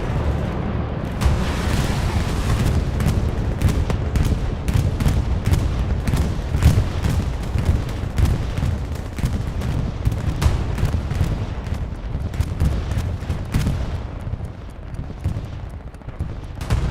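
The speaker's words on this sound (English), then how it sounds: "Bombing run coming." Bombing run explosions in the video game Hell Let Loose, on the Stalingrad map during a competitive division final, form a dense, continuous barrage of heavy booms and blasts with rapid overlapping detonations and gunfire that stays loud throughout.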